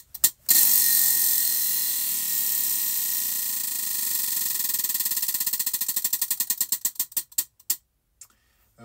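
Spinner wheel whirring round to pick a crochet stitch: a rapid ticking ratchet that starts fast and dense, then slows into widely spaced clicks before stopping, close and clear.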